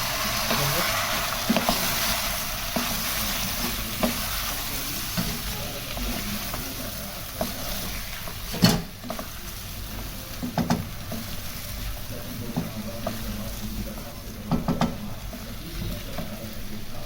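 Cubed potato and eggplant sizzle softly in a pan while being stirred, with a faint steady frying hiss and scattered light scrapes and taps. The whole thing stays fairly quiet and close.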